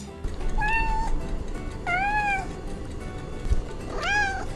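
A cat meowing three times in clear, drawn-out, tonal calls, fairly close and spaced about a second apart, over a low steady room hum with no talk.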